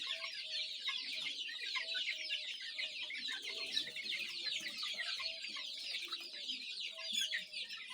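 A flock of young hens clucks and peeps continuously close by, with many overlapping soft calls forming a steady, busy chatter outdoors in a farmyard.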